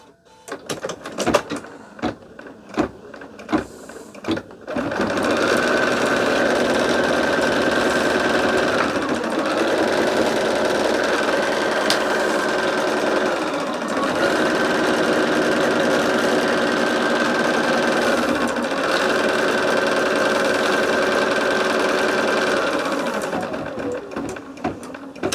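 An embroidery machine stitches a piecing template on a quilt block in the hoop, a steady loud mechanical whir running continuously after a few clicks and handling knocks at the start.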